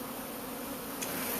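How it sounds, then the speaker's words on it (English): Wild honeybees from a swarming colony buzz in a dense, continuous hum, close and steady for a brief moment, with a faint brighter flicker near the end. "Now these bees are from what I believe was a wild colony"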